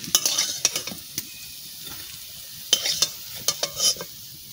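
Bottle gourd peel chops frying in a pan, a soft steady sizzle of hot oil broken by several sharp clicks and scrapes of a stirring utensil, close and fairly quiet with no voices.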